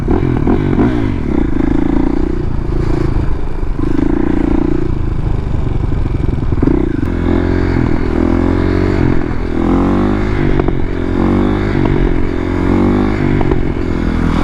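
A loud motorcycle engine revs repeatedly up close in the South Dakota Badlands, its pitch rising and falling in rough bursts with some mechanical clatter.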